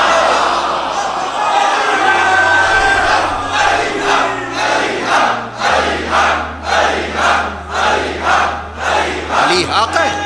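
Large crowd chanting religious slogans in unison during a sermon, loud rhythmic bursts of massed voices rising and falling in repeated beats, with a speaker's voice mixed in.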